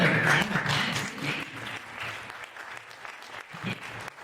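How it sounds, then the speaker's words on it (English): A large panel-event crowd in New Orleans applauds, dense steady clapping that fills the room and slowly thins toward the end. "give yourself a round of applause"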